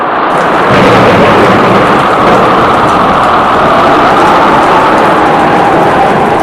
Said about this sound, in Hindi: ऐसी घनघोर वर्षा और बाढ़ आज तक हमने नहीं देखी